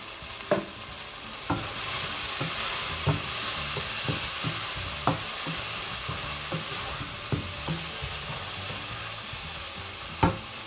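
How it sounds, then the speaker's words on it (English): A spatula stirs salmon, onions, tomatoes, garam masala and salt in a sizzling pan. Sharp scraping knocks come at irregular intervals over a steady frying hiss. "Then we mix it properly."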